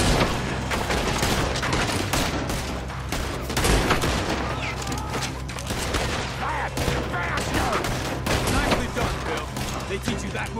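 Rapid gunfire from a Red Dead Redemption 2 shootout during a robbery, with dense overlapping shots and bursts that run continuously under background voices and music.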